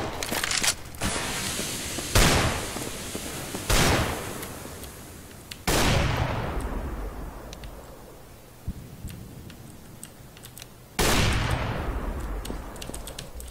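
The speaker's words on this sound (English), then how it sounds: "I'm throwing a flashbang." A CS:GO match in which a flashbang is thrown, with several sharp, loud bursts spaced a few seconds apart, each decaying into a hissing ring, among scattered gunfire-like clicks and ambient game noise.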